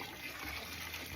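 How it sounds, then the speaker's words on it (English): A garden hose runs water into a bucket of chicken feed for fermenting, giving a steady close rushing and splashing fill that lasts throughout without pause. "So I just have a hose and I'm just filling it up."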